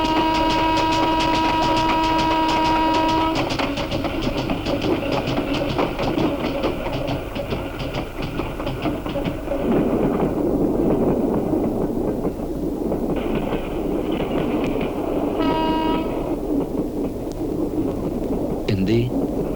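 A passenger train runs through the night with a steady low rumble and rhythmic clatter, while sustained horn-like tones come and go and people talk over the noise.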